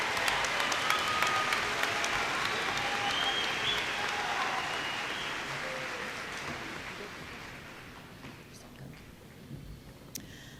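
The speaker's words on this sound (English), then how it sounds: "Let's give them a round of applause." A large audience at the Dalton State College spring 2019 commencement applauds with dense, sustained clapping that starts loud and slowly fades toward the end, with a few scattered claps lingering.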